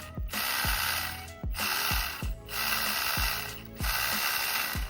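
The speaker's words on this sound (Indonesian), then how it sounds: "kalian dengerin suara rodanya tuh." A mini RC drift car's wheels spin at full throttle, a close, loud mechanical whir broken into repeated bursts roughly a second apart, each starting with a sharp click, with no talk.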